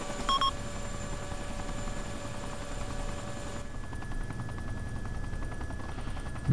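Steady helicopter rotor and engine drone from the ArmA 2 video game, a continuous low hum with a brief beeping tone near the start, with no talk over it.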